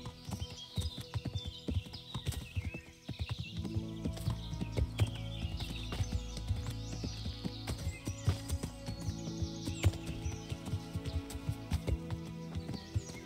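Horse hooves clip-clop steadily at close range in the medieval video game Kingdom Come: Deliverance, a continuous walking rhythm over low ambient music and scattered birdsong.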